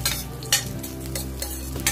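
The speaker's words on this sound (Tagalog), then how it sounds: "sa tayo na tayo ng garlic. Ito mainit na yung kawali." Garlic frying in a hot pan for a menudo dish, a steady close sizzle with a low background hum and a few sharp stirring scrapes and clinks from a utensil against the pan.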